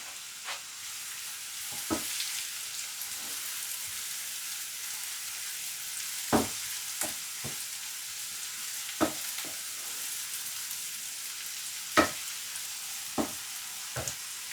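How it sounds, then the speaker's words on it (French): Chopped onion and garlic fry softly in a pan for a mushroom, ham and cheddar quiche, a low steady sizzle broken by a handful of sharp spoon scrapes and taps at irregular intervals. "maintenant on va commencer à verser l'oignon et l'ail. Et on fait revenir le tout."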